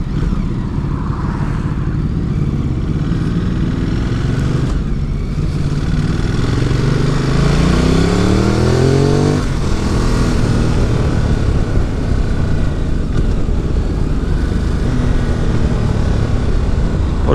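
Ducati 950 Multistrada motorcycle engine while riding, a continuous engine drone with rising and falling revs through gear changes, under heavy wind rush.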